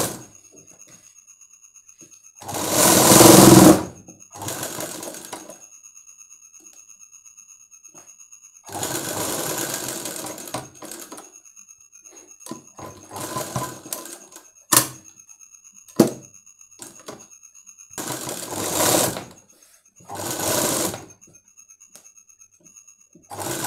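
A tailor's sewing machine stitches a blouse in several loud bursts of rapid whirring, some a couple of seconds long and others only short jabs, with quiet gaps between them.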